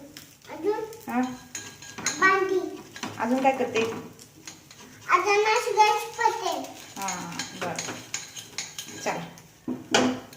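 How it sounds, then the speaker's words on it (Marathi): A child washes dishes, making them and cutlery clink and scrape repeatedly while the child and an adult talk nearby. "काय करते भांडी घासते"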